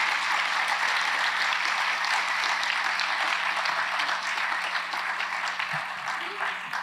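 Audience at a mayoral and council candidate forum applauds steadily, a dense, sustained clapping that fills the room and tapers slightly near the end.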